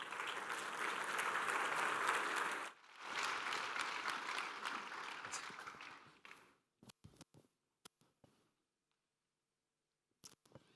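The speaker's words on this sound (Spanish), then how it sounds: "Con este fuerte aplauso recibimos a Andrés Arellano" A large audience applauds loudly in a hall to welcome a technology executive to the stage, a sustained round that dips briefly, swells again and then thins out into a few scattered claps and taps.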